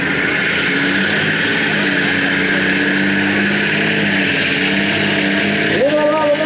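A stock semi truck engine pulling hard at a night truck-pull event, a loud sustained drone that rises in pitch and shifts gears automatically, with the roar holding steady throughout.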